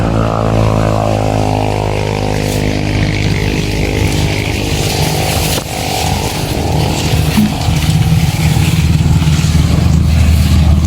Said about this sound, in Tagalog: Yan po yung motor po natin.